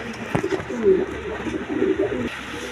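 Pigeons coo at a bird market among pairs kept with their eggs, giving soft throaty rolling calls that repeat close by against a faint background murmur.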